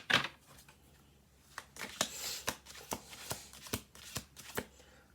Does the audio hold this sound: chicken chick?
no